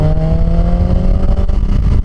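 Motorcycle engine pulling hard under throttle right after coming off the brake in a lean, a loud steady roar with rising tone, close and continuous with wind rush.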